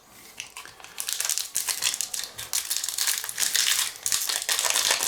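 A Throne of Eldraine Magic card booster pack wrapper torn open with teeth, giving a steady run of close, crisp foil crinkling and crackling that grows busier and louder over several seconds, with no talking.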